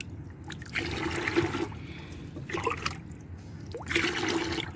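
Liquid tea fertilizer is poured and stirred into a container of water, giving splashing, trickling bursts in three waves over steady sloshing, fairly close, with no talking.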